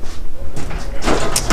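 A drawer of a Husky 52-inch steel tool box slides open with a rolling metallic rumble and a short clack at the end, close by, with no talking.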